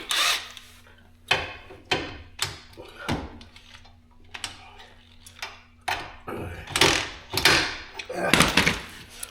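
Socket wrench work on the caliper bracket of a QX-50 during a brake job, a series of separate ratcheting, scraping bursts with short pauses between them, close and fairly loud.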